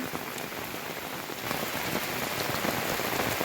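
Heavy downpour of rain in open countryside, a dense steady hiss of drops striking surfaces that grows a little louder midway, continuous and close with no voices.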